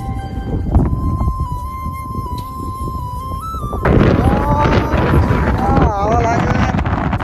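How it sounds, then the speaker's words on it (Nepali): Rough wind buffets the microphone outdoors at Nara Park in Japan, a steady low roar that swells louder halfway through, with faint tones and indistinct voices mixed in. "हावा लाग्यो"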